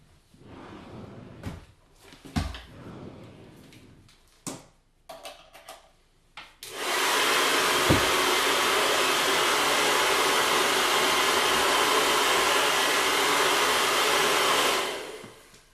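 A few scattered knocks and clatters, then a hair dryer switches on and blows with a steady, loud whoosh for several seconds before cutting off.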